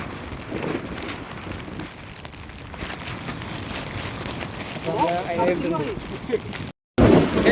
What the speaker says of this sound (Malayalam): മഴ നല്ല ശക്തിയിൽ ഇങ്ങനെ പെയ്തോണ്ടിരിക്കുന്നതാണ്